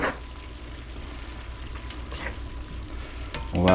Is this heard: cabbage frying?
yes